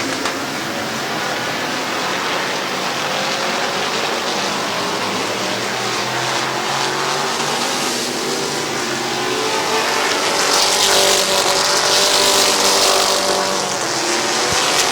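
Race cars roar around the Midvale Speedway track in a loud, continuous drone of engines, a dense pack that swells slightly as cars pass closer near the end.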